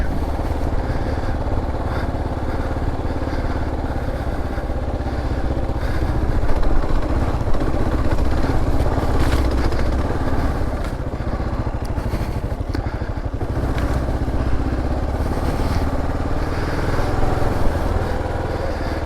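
A Kawasaki KLR 650 adventure motorcycle on the move, its steady engine drone rising slightly mid-ride amid wind noise and road rumble, with no talking.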